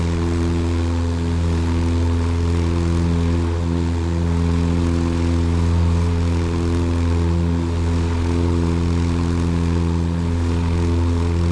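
A propeller aircraft engine climbs after takeoff in Microsoft Flight Simulator, producing a loud, steady droning hum with a constant pitch and no variation over the whole stretch.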